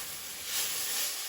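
Broccoli beef hisses and sizzles in a hot wok during a stir-fry, a steady, close, bright frying hiss that swells briefly in the middle of a short moment.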